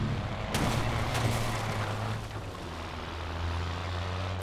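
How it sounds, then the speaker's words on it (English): Explosions in the video game Watch Dogs: a sharp blast followed by a second, then lingering low rumble and a steady engine-like drone, loud and close with no talk over it. "I like the explosions in this game,"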